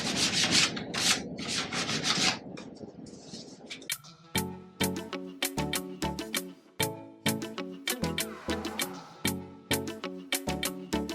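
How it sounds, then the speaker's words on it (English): Hand sanding a primed dresser with 220 grit sandpaper: close, steady rhythmic rubbing strokes, with a burst of faster scratchy strokes at the start. "take some 220 grit sandpaper and sand all of the primed areas"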